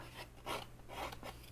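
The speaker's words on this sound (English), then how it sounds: "If you just file it down with a file, it works really, really well" A metal hand file rasps across a small treat box part, smoothing down an edge that sat slightly high; several short back-and-forth strokes, close and quiet, over a steady low hum.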